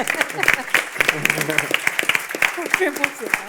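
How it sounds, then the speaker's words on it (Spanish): Applause from a seated audience at a panel discussion on multiple sclerosis, scattered claps under someone talking, moderately close and fairly brisk. "le vamos a dar un aplauso a Sara"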